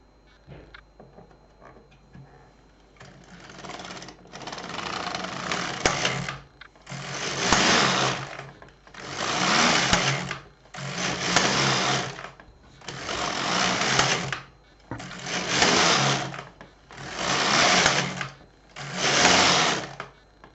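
An LK 150 knitting machine carriage knits rows of waste yarn, sweeping back and forth in a regular series of about eight loud whirring passes separated by brief pauses, with no talking.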